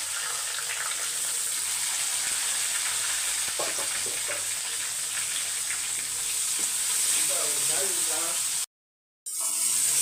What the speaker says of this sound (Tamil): வெங்காயம் வந்து பாதி வதங்கட்டும்